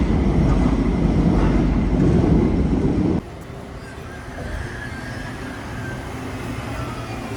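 Rotterdam metro train running, a steady rumbling roar of the carriage that drops to a quieter, lighter rolling hum partway through, with faint squeal-like tones above.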